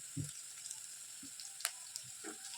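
Onion, garlic, chilli and bay leaf sizzle in hot oil for a tempering, a quiet, steady hiss with a few soft pops and utensil taps close by.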